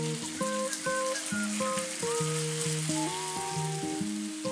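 Spring onions, carrots and courgettes sizzle in a pan for a king prawn and egg noodle stir-fry, a constant crackling hiss running beneath louder background music.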